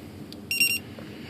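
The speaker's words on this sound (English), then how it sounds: "Voltage alarm." A Turnigy heavy-duty RC battery pack's plug-in voltage alarm lets out a short, loud, high-pitched electronic beep burst, about a quarter second of steady tone alone against quiet room background, with a faint chirp just before.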